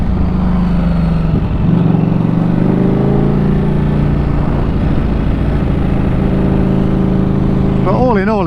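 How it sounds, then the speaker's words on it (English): A Ducati Streetfighter V4S motorcycle engine running at low road speed: a steady, loud rumbling drone that holds throughout, with a slight rise in pitch, while a person talks over it near the end. "This bike sounds absolutely awesome."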